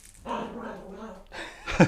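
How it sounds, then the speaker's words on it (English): Dogs bark and whimper excitedly in a room during a tabletop wargame session, close and fairly loud in short bursts, with a louder yip near the end. "Sorry, guys, the dogs are going crazy."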